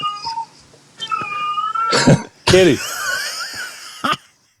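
A cat meows and yowls loudly and up close in several strained, wheezy calls with short gaps between them, alongside a few brief human sounds.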